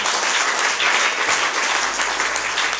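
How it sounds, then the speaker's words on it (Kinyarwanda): A church congregation applauds together, a loud, dense wash of clapping that holds steady from start to finish with no pause. "Kadukubitire Yesu amashyi menshi arabibwira."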